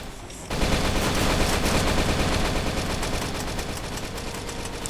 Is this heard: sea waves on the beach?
no